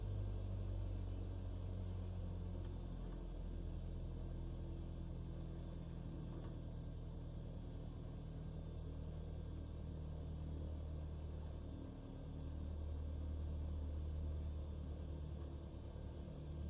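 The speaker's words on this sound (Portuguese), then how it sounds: "E agora a gente tira toda a potência aqui da aeronave para descer em marcha lenta." Aircraft engine idling at low power during descent in Microsoft Flight Simulator, a steady low rumble holding at an even level with no talk.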